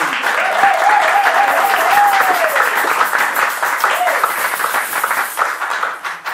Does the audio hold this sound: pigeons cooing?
no